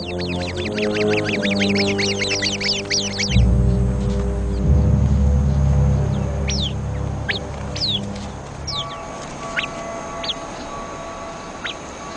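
Several birds give sharp, repeated alarm calls, at first dense and chattering, then sparse high chirps and whistles over a low rumble.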